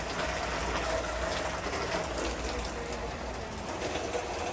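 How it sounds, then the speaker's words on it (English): Heavy water rushing off a flat roof during a hose test after a new roof panel installation, a steady broadband gushing and spattering wash that fills the whole clip without talk. "the water coming out like fast the way it's supposed to, because she's watering it down heavy"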